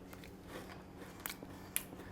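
A few sharp, crisp crunches from biting into cereal-coated fried pork chop, spaced out over a couple of seconds against a low, steady background hum.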